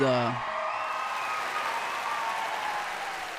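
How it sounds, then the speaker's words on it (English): A short tonal sound at the start gives way to a crowd clapping steadily, a dense, even round of applause at a Temtem tournament final. "Trotter, guys, round of applause"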